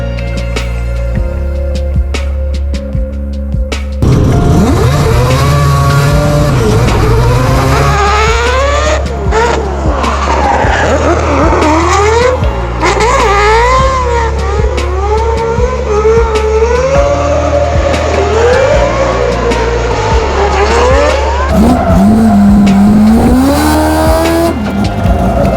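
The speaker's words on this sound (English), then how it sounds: "you're drifting straight away. You know, you have the wheel spin" Tires squeal and the engine revs hard in a drifting car with heavy wheel spin, a loud, sustained run of rising and falling engine pitch and screeching rubber held close throughout.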